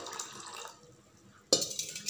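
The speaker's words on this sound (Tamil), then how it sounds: "ஊற வச்ச கொள்ளுப்பருப்புக்கு ஒரு 2 டம்ளர் அளவு தண்ணி ஊற்றி" Water poured from a tumbler onto soaked horse gram, a short close splashing fill that pauses briefly and then resumes with a sharp, brighter splash.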